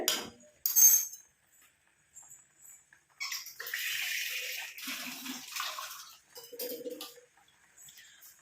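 Water splashes and runs into a pan in a few bursts, rinsed from a mixer jar, with light clinks of a container and quiet pauses between pours.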